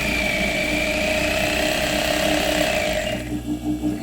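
A sewing machine stitches hair weft with a fast, steady mechanical whirring and needle rattle, close and continuous, then slows to a pulsing chug near the end.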